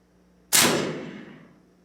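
A single rifle shot in a VR shooting simulator: one sharp, loud crack that decays over about a second, alone with no talk.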